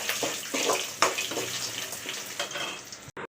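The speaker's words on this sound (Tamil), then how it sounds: "இதை நல்லா கரைச்சி தண்ணியை மட்டும் சேர்த்துக்கிறேன்" Tamarind water is poured into a hot cooking pan with garlic and green chilli, giving a steady splashing, sizzling rush for about three seconds that cuts off abruptly.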